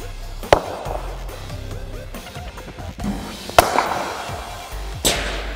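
A cricket bat strikes a ball in straight drives, giving three sharp, separate cracks spaced a few seconds apart over a low outdoor background.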